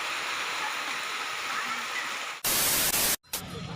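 Heavy rain pours down in a steady, dense hiss during a Bol Bam pilgrimage walk from Chandanpur toward Loknath temple, then surges suddenly much louder near the end, with a brief gap before the downpour resumes.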